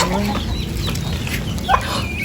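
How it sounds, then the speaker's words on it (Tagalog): Chickens cluck steadily in a busy farmyard, several birds close by over a constant noisy background, with no clear speech. "nagpapakain na ng kanyang mga alagang manok at saka po ng bibi"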